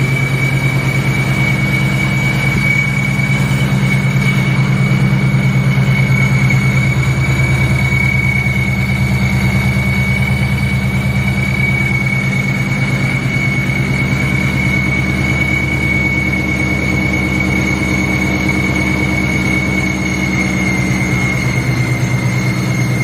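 Supercharged Ford Mustang S550 fitted with an ESS G2 kit, first startup and idle: a loud, steady low rumble with a constant whine above it, running unbroken throughout.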